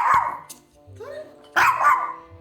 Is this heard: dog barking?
yes